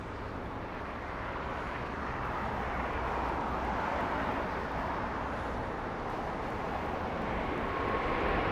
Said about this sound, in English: Like I said, it's a Boeing 777-300ER. This one usually departs very heavy